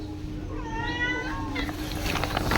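Pet cats, including Highland, Maine Coon, Bengal and ragdoll breeds, give one clear drawn-out meow over a busy, noisy indoor background.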